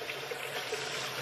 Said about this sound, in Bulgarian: Ето, пускам водата.